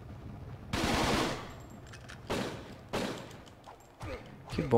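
Several loud bursts of gunfire in the video game Fighting Force 2, one long and then a few shorter shots spaced apart, with faint voices between them.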